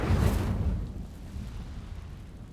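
A fiery burst as the Incendio spell ignites dry vines in Hogwarts Legacy, a loud low whooshing boom at the start that settles into a steady crackling rumble.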